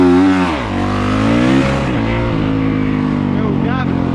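Dirtbike engine revving hard for a launch, a loud close roar with pitch swings as the throttle rises and dips, with a voice over part of it.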